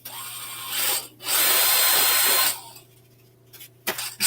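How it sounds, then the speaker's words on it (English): A power drill bores a hole into a small green craft bunny figure in two loud whirring bursts, the second longer, followed by a few faint brief buzzes. "So I'm going to take my drill"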